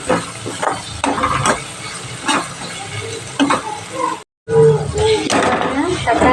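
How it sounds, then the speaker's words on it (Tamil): Tomatoes sautéing in a pan for chicken gravy, giving a steady sizzle with stirring scrapes beneath a person talking close by, broken by one brief silent gap. "தக்காளியை சேர்த்துட்டு அப்படியே வதக்கி விட்டுருங்க நல்லா வதங்கி வரட்டும்"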